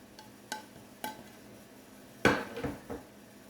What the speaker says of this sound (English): Mix this up. Incorporate that butter into the corn.